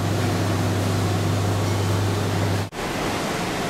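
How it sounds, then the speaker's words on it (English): Water sprays in a steady, loud hiss while stainless steel juicer mesh filter sheets are rinsed, broken briefly by one sudden dip before the spray resumes. "Just need to be cleaned with water now."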